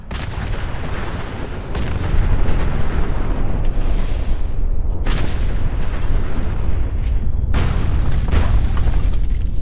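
Heavy booming explosions roll and rumble one after another after a missile launch in Fallout 4, loud and close, with repeated thunderous bursts and no talking.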